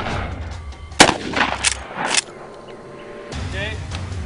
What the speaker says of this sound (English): This is a Mossberg 500 12-gauge short barrel shotgun.